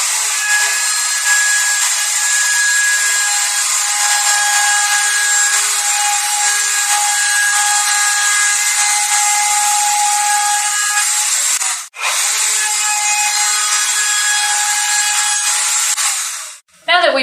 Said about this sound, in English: we're going to take a router and a roundover bit and lay a round edge around the top and